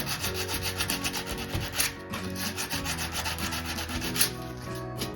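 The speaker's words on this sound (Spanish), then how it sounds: "con la ayuda de nuestra lija" Rhythmic rubbing of sandpaper against a model ship's surface, quick back-and-forth strokes repeating steadily and close by.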